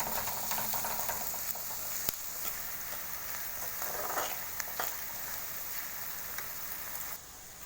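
Oil sizzles and crackles steadily in a pan on a medium flame while ladyfinger (okra) curry cooks, a continuous close frying hiss with small pops, dropping slightly quieter near the end.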